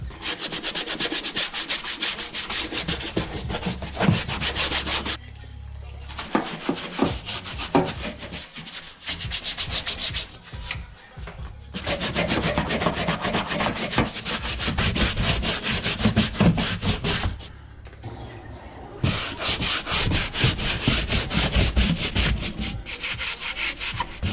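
A stiff brush scrubs the wheel wells of a car during an exterior detail, a loud, steady rasping scrub in repeated bursts separated by short pauses, close up with no talking.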